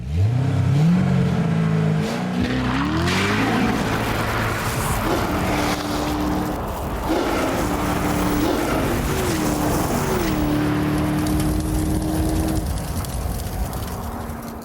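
A Corvette Z06 engine revs hard and climbs through several gear changes, a loud continuous roar of the car accelerating away in a quarter-mile drag race.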